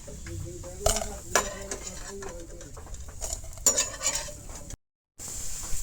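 Dried chilies, coriander seeds, peanuts and cumin dry-roasted in a pan, with a light sizzle and repeated scraping stirs and clinks of a spoon against metal, near and steady, with a brief dropout near the end.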